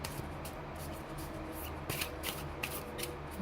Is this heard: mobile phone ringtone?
no